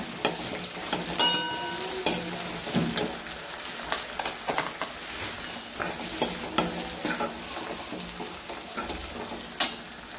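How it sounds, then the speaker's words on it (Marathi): Green chilies sauté with onion in a pan, steady frying sizzle under repeated scraping stirs and light spoon taps, moderately quiet and close. "आता आपण इथे हिरवी मिरची टाकून घ्यायची। कांदा परतून झाला की आपण आता हिरवी मिरची टाकून घ्यायची।"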